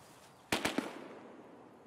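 A rapid burst of gunfire in the Escape From Tarkov shooter game: three or four quick sharp reports in close succession, fairly loud and alone, with a short echoing tail fading afterward.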